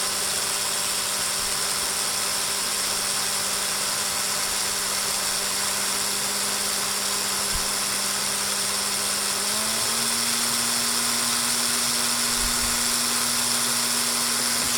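A drill spins steadily to wind a wickless vape coil, giving a constant droning whir with a faint engine-like hum that shifts slightly in pitch partway through.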